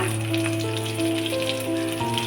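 Fennel seeds, cumin and onion hit hot oil with a loud, continuous close sizzle, with a low steady hum beneath and no talking over it.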